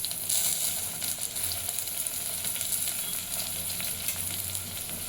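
Tomatoes and curry leaves frying in a pan, a dense, even sizzle close by that carries on steadily with no voices.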